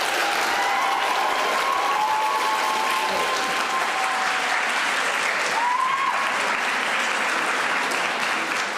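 Loud, sustained applause from a large audience after a speech at a school speech night competition, thick and continuous throughout, with a few faint whistles or cheers rising within it.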